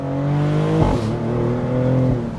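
Maserati GranCabrio Trofeo engine running steadily close by, its tone dipping briefly as a gear change kicks in before settling back to a strong, even drone.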